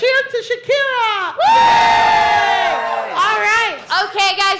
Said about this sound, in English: let's give a cheer to Shakira